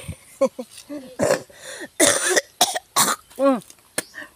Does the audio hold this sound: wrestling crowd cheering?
no